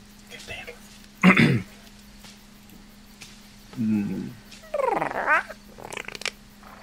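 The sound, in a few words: creature sound effect like a dog or gecko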